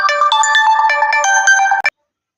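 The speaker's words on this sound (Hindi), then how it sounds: "तो फ़ोन आ गया था।" A loud, close phone ringtone plays for an incoming call, a bright electronic melody of quick repeating notes that cuts off abruptly after under two seconds and leaves silence.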